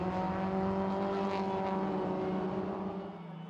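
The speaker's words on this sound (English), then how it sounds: "Drew Bellamy accelerates downhill" Mini race cars accelerate downhill on a rallycross circuit, a loud, close, sustained engine drone with steady tonal whine that fades slightly toward the end, no talking over it.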